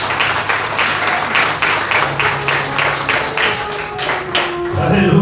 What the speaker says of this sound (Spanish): Aplaude a Dios, está vivo.